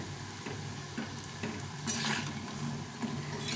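Mung lentil fritters fry in hot oil with a steady, close crackling sizzle and a few soft utensil touches, with no voices.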